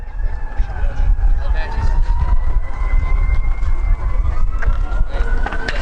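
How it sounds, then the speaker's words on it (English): A distant fire truck siren holds a long, slowly sliding tone over a loud, rumbling crowd-and-traffic background at a baseball game. "As sirens from nearby fire trucks are overheard."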